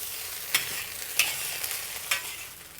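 Garlic fried rice with fish sauce is stirred in a frying pan, giving a steady sizzle broken by three or four sharp scrapes of the utensil against the pan, close and fairly quiet, with no voices.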